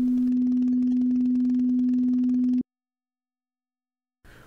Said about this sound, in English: a variometer, which is appropriately noisy.